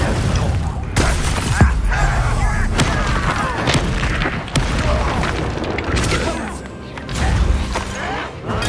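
Incendio fire spell blasts in the Hogwarts Legacy video game, a loud series of booms and crackling bursts with sharp thuds scattered through the clip over a dense, busy battle mix.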